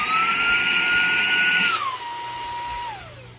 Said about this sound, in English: Hold it a second time and it goes at a different suction rate.